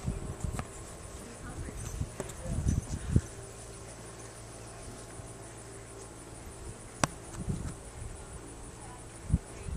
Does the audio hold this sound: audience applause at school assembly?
no